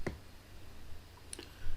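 A single sharp computer mouse click sounds near the start over a quiet room hum, with another faint click around the middle of the short pause while installing Ubuntu 24.04 in VMware.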